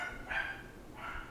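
A dog barks twice in the background, short muffled yips spaced about a second apart, faint and distant in a quiet room.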